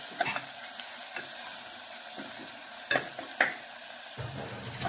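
Onions sautéing in a pan for a green pigeon pea curry give a soft, steady sizzle, broken by a few scraping stirs of a spoon against the metal; quiet and close, with no talking.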